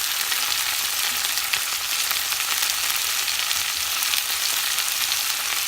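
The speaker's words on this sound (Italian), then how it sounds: "cercate di friggere a fiamma abbastanza alta" Garlic frying in a pan over fairly high flame gives a steady, close, hissing sizzle throughout, with no talk.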